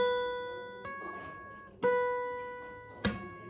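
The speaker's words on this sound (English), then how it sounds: "You have to play it with the slap sound like this" An acoustic guitar played fingerstyle rings out sustained notes on the first string, punctuated by three sharp percussive slaps, each followed by a hammer-on and a slowly decaying ring, with no voice over it.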